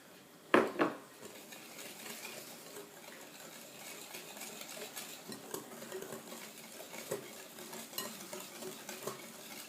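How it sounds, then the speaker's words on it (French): Melted butter being mixed into sugar in a bowl for Nutella-filled cookies: a couple of sharp utensil knocks against the bowl near the start, then steady soft scraping and stirring with small clicks throughout. "Vous mélangez."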